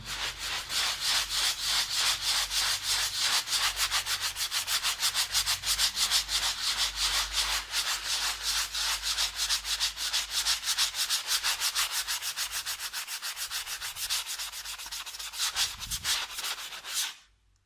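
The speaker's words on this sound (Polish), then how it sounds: "jak już nam to przeschnie, to co robimy? Równo to szlifujemy." Dried plaster filler on a wall is sanded smooth with steady, fast back-and-forth scraping strokes that are close, loud and rhythmic and run continuously for a long stretch before stopping abruptly, with no talking.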